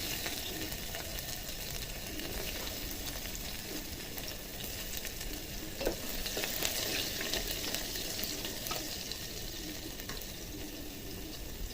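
Garlic, whole garam masala and hot oil fry in a pressure cooker for rajma dal. A steady, close crackling sizzle runs throughout with a few faint clinks and no speech.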